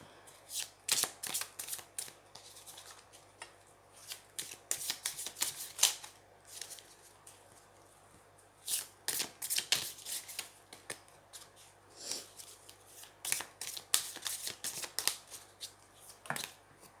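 Oracle cards being shuffled by hand in repeated riffling bursts of papery flutter and snapping, close and crisp, with brief pauses between shuffles and no talk.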